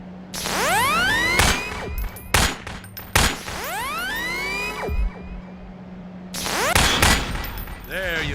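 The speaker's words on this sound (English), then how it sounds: "Now, take out the firearm of your choice and shoot the device." Gunfire in Half-Life 2 as a player shoots at a device on a Strider: several sharp, loud shot bursts with sweeping, whooshing electronic tones between them over a steady low hum.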